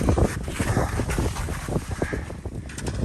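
During a snowy mountain descent, gusty wind drives light snow and buffets the microphone in loud, uneven bursts, with no voices.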